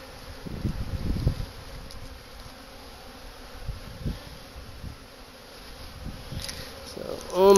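Honeybees from a swarm buzz faintly around a hive with ventilated ridges, their thin drone running steadily with a few close passes and soft knocks, then a louder burst at the end.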